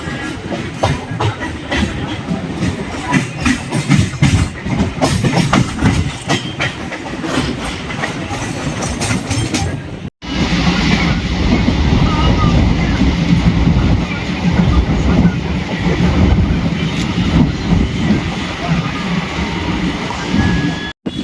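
A Chennai suburban train running toward Pattabiram, loud rumbling wheels and clattering rail joints from on board, with a brief break partway and heavier roar afterward.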